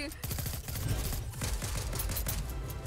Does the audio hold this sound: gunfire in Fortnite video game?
yes